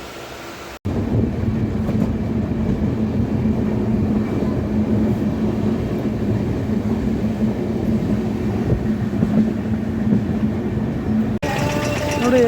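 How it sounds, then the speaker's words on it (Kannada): A train pulls into a station on the way to Kalahasti: a steady, loud rolling rumble with a low hum begins abruptly and continues near and unbroken for about ten seconds before cutting off. "ಫೈನಲಿ ಟ್ರೈನ್ ಬಂದಿದೆ"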